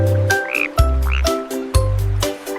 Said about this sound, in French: Une drôle de grenouille saute sur une bûche.